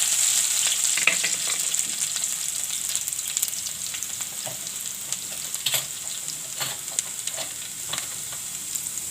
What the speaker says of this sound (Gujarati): તો રાઈને આપણે થોડીક તતડવા દેવું